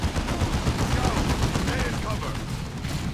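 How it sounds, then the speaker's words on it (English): Rapid bolter gunfire from Space Marines in the Dawn of War 2 video game, a dense, continuous barrage of overlapping shots with booming low-end impacts, loud and sustained throughout, with a voice faintly present in the mix. "then there's a lot of bolter fire"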